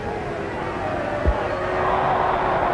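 A crowd of nearly 60,000 at a 1968 New Zealand v France rugby test match gives off a steady, distant roar. A commentator's voice and one dull thump sit over it.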